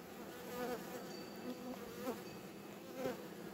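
A steady, close drone of many honeybees buzzing around a hive, swelling and fading slightly in waves, with no voices.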